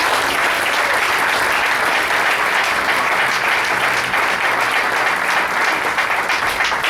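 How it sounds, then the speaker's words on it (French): A church congregation applauds the Lord with loud, continuous clapping from many hands filling the room, steady and dense throughout without a break. "Est-ce que nous pouvons acclamer le Seigneur pour vous?"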